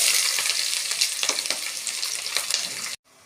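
Onions hit hot oil already crackling with cumin and mustard seeds, giving a loud, dense, steady sizzle with small popping bursts for about three seconds before it cuts off abruptly.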